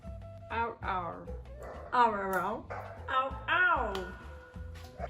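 A dog voices a run of short whimpering yips and barks, close and fairly loud, some overlapping a person talking.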